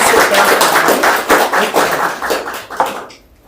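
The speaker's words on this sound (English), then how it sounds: "let's give another round of applause" An audience applauds after a presentation, a loud burst of clapping hands that fades out toward the end.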